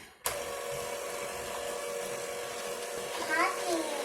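A steady electric mixer whirs on low through fruit cake batter, a constant close hum with a child and an adult talking over it.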